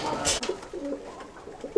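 Pigeons coo in soft, low repeated calls close by, with a brief louder rustle or flutter early on and faint background murmur.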